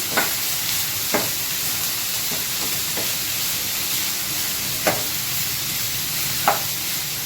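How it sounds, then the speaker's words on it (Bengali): Ridge gourd peels stirred into hot oil in a pan: a steady, faint sizzle with a few sharp clinks of the spoon against the pan scattered throughout, no talk over it. "তেলের সাথে ভালো করে একটু মিক্স করে নেবো"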